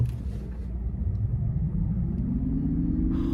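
2023 Nissan Ariya e-4ORCE all-wheel-drive electric SUV pulling away from a dead stop, a steady low road rumble and faint motor whine rising smoothly in pitch, heard from inside the cabin with no talking.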